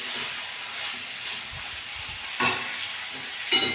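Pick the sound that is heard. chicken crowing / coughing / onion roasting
onion roasting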